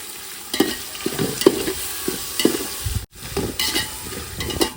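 Tomatoes being stirred into a frying pan with ginger-garlic for a whole-chicken biryani, giving a close, steady sizzle broken by repeated spatula scrapes and strokes, with a brief cut partway through.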